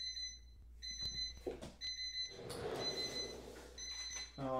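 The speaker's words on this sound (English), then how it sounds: "I don't know what that buzzer is for because I didn't set it to a time" An unexpected electronic buzzer goes off in repeated beeping bursts, loud and steady, with a noisy rustle and scraping in between.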